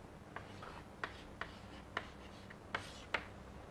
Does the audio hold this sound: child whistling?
no